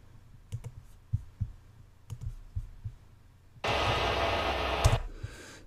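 A few scattered clicks, then a loud burst of hissing white noise transition sound effect that holds steady for over a second before stopping.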